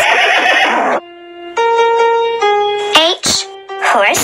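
In a children's alphabet app, a horse gives a short, shrill whinny at the start and another at the end, with a child-friendly voice speaking clearly between them.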